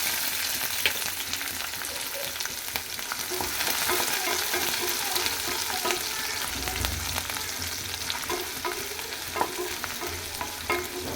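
Onion pieces frying in a pan for a tomato and ripe cucumber curry, giving a constant dense crackling sizzle close up, with occasional faint stirring clicks and no voices.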